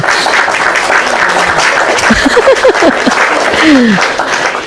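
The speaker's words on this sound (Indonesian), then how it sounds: "Tepuk tangan buat lon dulu ya" An audience claps while laughter and chuckles break out, with voices speaking over the steady, loud applause.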